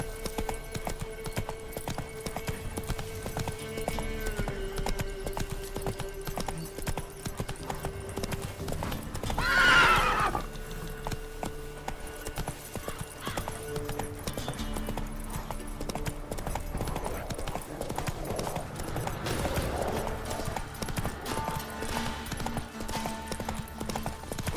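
The horse Roach galloping in The Witcher 3: Wild Hunt, with steady rhythmic hoofbeats running throughout, a sharp whinny in the middle, and game music and effects layered underneath.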